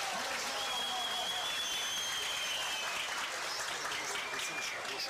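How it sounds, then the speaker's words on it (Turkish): A crowd at a traditional Turkish oil wrestling event applauds the head wrestlers, producing dense, steady clapping that holds at an even level for several seconds without a break. "baş pehlivanlarımıza şöyle kocaman bir moral alkış istiyoruz"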